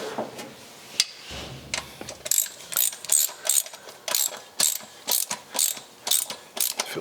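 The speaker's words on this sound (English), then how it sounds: "grab the wrench and reef down on it" A ratchet wrench cranks down a bolt on an abandoned 1956 Chrysler Windsor, giving close, repeated bursts of clicking in a steady back-and-forth rhythm after a couple of lighter knocks.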